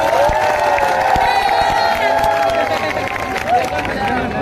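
A large crowd at a Dussehra mela kavi sammelan in Chittorgarh roars and cheers in a sustained, loud wave of massed voices and whoops, with scattered claps mixed in throughout.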